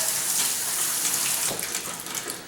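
Tap water runs steadily over soaked, drained cashews being rinsed, a close splashing stream that eases slightly toward the end, with no talking.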